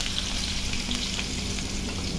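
Lemongrass, minced ginger and garlic fry in a hot pan, giving a steady, close, even sizzle with no voices.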